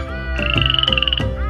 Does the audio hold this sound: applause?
no